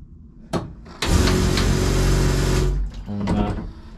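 An old small car fitted with a new exhaust starts up and pulls away, its engine note rising loud and steady for a couple of seconds before easing off, with a brief rev before and after.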